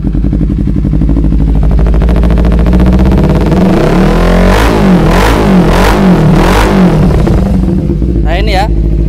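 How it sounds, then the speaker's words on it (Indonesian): A two-cylinder sport motorcycle fitted with a racing exhaust runs loud and close throughout, its engine note shifting and swelling through several sharp throttle blips and revs. "Ini tak hidupin."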